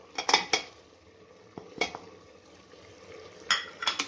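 A spoon mixes spices into frying mutton for rara mutton, giving clustered metallic clanks and scrapes against the pan over a faint, low sizzle.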